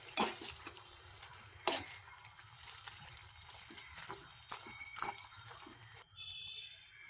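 Chicken curry with curry leaves stirred in a pan, soft wet sizzling under repeated spoon clinks and scrapes, fairly quiet and close, ending with a brief hiss.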